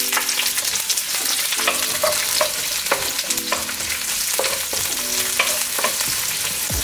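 Onion frying in hot oil in a pan, a loud steady sizzle broken by repeated scraping strokes of stirring, heard up close and alone with no talking.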